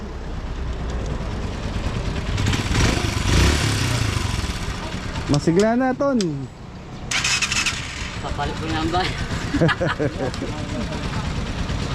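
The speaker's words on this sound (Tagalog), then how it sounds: "Ito yung makina." A motorcycle engine cranks, catches and revs before settling into an idle, with people talking loudly over it, at Manaoag Church in Pangasinan.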